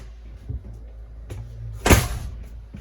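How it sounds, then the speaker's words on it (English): An RV door swings shut with a solid thud and brief rattle, preceded by a few faint knocks and shuffles nearby. "I'm going to close that door quickly so you can hear a little bit better."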